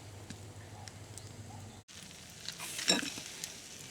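Pork steak cooked with Armagnac sizzles and crackles steadily in a pan, a soft broad hiss with a brief louder flare of spattering near the end, no talk over it.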